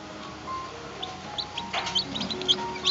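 High, thin peeps from newly hatched chicks in an incubator come in scattered bursts over a faint background hum, close by and growing busier toward the end.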